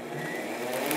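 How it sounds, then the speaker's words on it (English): Electric blender grinding a dry mix of whole and ground spices including vanilla, bay leaf, savoury, clove and cardamom; a steady, continuous whirring drone that builds slightly in intensity, close and loud, with no talking. "Okay, lid on and blend."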